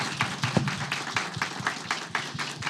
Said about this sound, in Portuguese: vamos dar uma salva de palmas para essa mamãe do ano